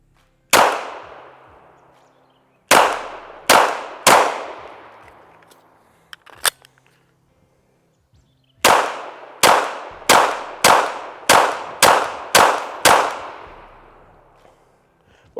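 PSA Sabre Dagger pistol fired outdoors, sharp loud cracks with ringing decay, first a few spaced single shots, then a quick string of about eight evenly paced rounds, with faint clinks between.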